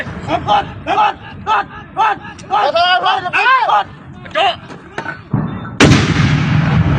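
A Thai army mortar fires once, a sudden loud blast with a rushing tail near the end, after a stretch of shouted commands from soldiers.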